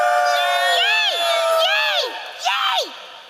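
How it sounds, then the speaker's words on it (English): Whooping cheers at a Rocky IV comic con panel, three rising-and-falling vocal swoops in quick succession, sounding like voices performing a crowd cheer rather than a real audience. "The crowd cheers."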